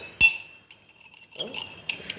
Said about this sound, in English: I'm just stirring so that all particles should dissolve.